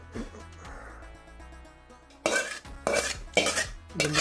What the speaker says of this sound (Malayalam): ഇത് ചെറുതായിട്ടൊന്ന് ടോസ് ചെയ്യണം.